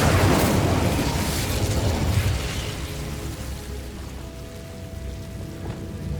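The Incendio fire spell is cast in Hogwarts Legacy: a loud, dense burst of crackling, roaring noise that thins and fades over several seconds, with no voices.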